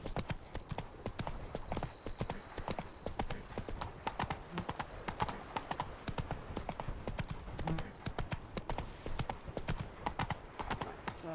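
Roach the horse trots along a road in The Witcher 3, a steady fast clip-clop of hooves continuing throughout, close and even in rhythm, with no talking.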